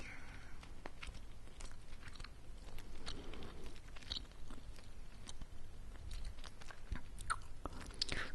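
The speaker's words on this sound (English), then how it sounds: "that's the brand of gum I'm chewing right now" Freedent gum being chewed close to the microphone, soft wet smacks and clicks repeating in a steady rhythm throughout, intimate and quiet with no talk.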